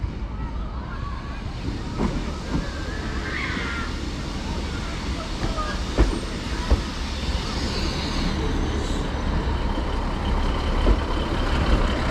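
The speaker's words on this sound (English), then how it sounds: "arriving in now is the terminating northern service from Morecambe. This will be 156422 coming back." Northern Class 156 unit 156422, a terminating service from Morecambe, pulls into Lancaster station on the West Coast Main Line: a steady, broad rumble that swells slightly toward the end, with scattered sharp clicks and squeals over it.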